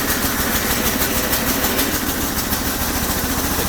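A Bolens garden tractor engine runs with the choke on, a loud, close, rapid chugging idle that stays steady throughout, with no one speaking.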